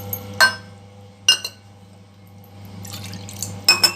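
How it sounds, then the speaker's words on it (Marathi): Water poured from a small bowl into a mango lassi mix with sugar and mango lands in a few separate splashes and drips, with soft clinks against the vessel, over a low steady hum. "हे मी वाटी टाकूनच घेते घालून पाणी थोडं"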